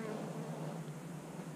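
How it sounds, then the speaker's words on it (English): A honeybee hive gives off a dense, steady buzzing roar as the bees fan inside, a close and continuous drone lasting under two seconds with no voices. "You can hear them roaring inside that hive,"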